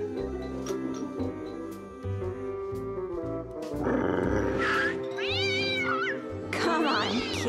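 A cat meows and yowls several times, drawn-out and wavering, over background music.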